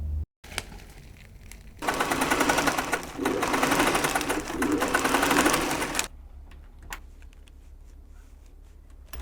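A sewing machine stitches fabric flags in a fast, rhythmic clatter that starts after a short, quieter run and continues for about four seconds before stopping. It is close and clear, and a few faint handling taps follow.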